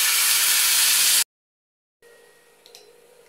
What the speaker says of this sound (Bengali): আমি শাকগুলো একটু বাপিয়ে দেব।